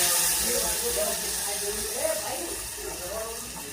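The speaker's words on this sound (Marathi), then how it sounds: "आता हे उरलेलं आपण असं फेकून द्यायचं आणि वरचं पाणी आपण त्यामध्ये सोडायचं" Water pours and splashes in a steady hiss, fairly close, with faint indistinct sounds in the background.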